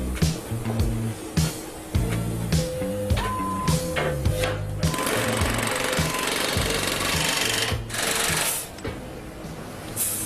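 Riveting during restoration of the steamship SS Robin, loud close hammering bursts with rapid repeated metallic blows and tonal machine hum, stopping and restarting in irregular runs.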